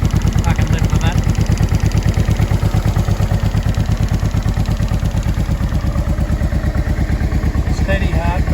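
A 2005 Honda NT650V motorcycle V-twin idles at about 1,000 rpm, a close, steady, even pulsing throb with a light mechanical clatter on top.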